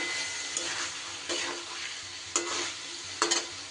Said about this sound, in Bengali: একটু সময়ের জন্য এইভাবে নাড়াচাড়া করে নেব।